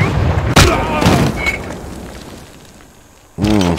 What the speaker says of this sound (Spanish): Ahí tengo otro disparo de cañón